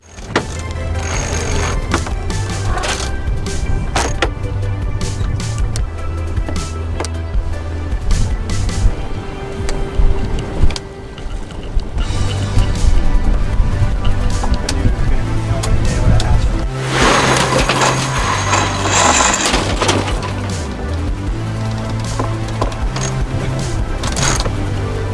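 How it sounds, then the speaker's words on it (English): Sails going up aboard a sailing catamaran on a sea trial in roughly 14 knots of wind: a steady mechanical whir and rushing wind and water noise carry on throughout, swelling louder in the middle stretch. "So now we are lifting up the sails."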